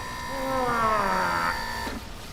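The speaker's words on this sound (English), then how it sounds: "it's like slowing down because the motor's burning out" An electric motor whirs with a steady harmonic whine that sags steadily downward in pitch as it loses speed while burning out, loud and close, then cuts off near the end.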